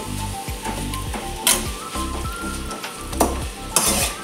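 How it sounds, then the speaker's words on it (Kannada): Four cut onions frying in a little hot oil, a loud, close, continuous sizzle broken by a few metallic clinks and stirring scrapes, no voices. "ಅದರಲ್ಲೀಗ 4 ನೀರುಳ್ಳಿ ಕಟ್ ಮಾಡಿ ಸ್ವಲ್ಪ ಎಣ್ಣೆ ಹಾಕಿ ಕಾಯಿಸ್ತಾ ಇದ್ದಾರೆ"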